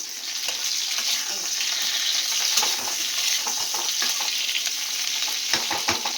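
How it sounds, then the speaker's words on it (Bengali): Pointed gourd (potol) fries in a pan for a Bengali home-cooked vegetarian dish, giving a steady, close sizzle that runs throughout with scattered clicks of stirring and no speech. "পটলটা একটু ভেজে নিতে হয় একটু কেন ভালো মতোই ভেজে নিতে হবে"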